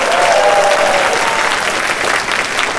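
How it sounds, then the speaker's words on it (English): A closing ceremony at Bewhiskered 2026 Whisker World Arcade fills with dense, loud, steady crowd applause for the new mascot, Ash, sustained without a break for a few seconds. "let's go ahead and give a round of applause for our new mascot"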